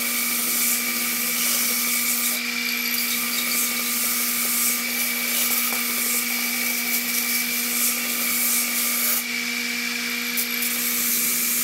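A styrofoam guitar case insert is sanded back and forth, a loud, steady abrasive rubbing over a constant machine hum, close up and uninterrupted with no talking.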